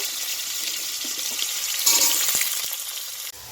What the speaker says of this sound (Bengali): ওই তেলের মধ্যেই আমি আলুগুলোকে আবার ভালো করে ভেজে নেব